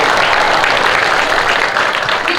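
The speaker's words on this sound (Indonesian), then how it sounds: "Kita berikan tepuk tangan yang meriah" An audience at a school performance event applauds in a steady, dense wash of clapping, loud and continuous with no distinct voices.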